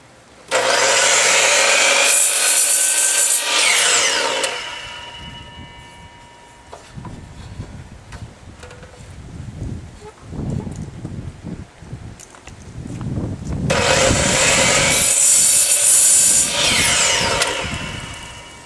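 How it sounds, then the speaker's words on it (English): A DeWalt cutoff saw cuts through a wooden block in two loud, harsh bursts a few seconds each, separated by quieter clunks and handling noise in between. "This DeWalt cutoff saw has a feature where you can set the depth of the saw blade by screwing this in and out"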